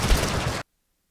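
Auto crossbow fire in Totally Accurate Battlegrounds, a dense burst of rapid shots running loud for about half a second before cutting off abruptly into silence.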